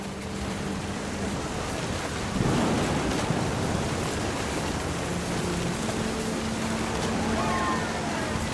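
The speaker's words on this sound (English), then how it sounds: "The thunder sounded much too close and full of angry power" Thunder rolls through a stormy night in the video game What Remains of Edith Finch, a deep broad rumble swelling after a couple of seconds over steady rain-like noise, with faint low tones and a quiet voice underneath.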